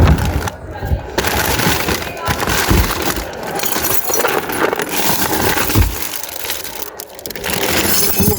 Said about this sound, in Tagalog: Ang daming basag, guys.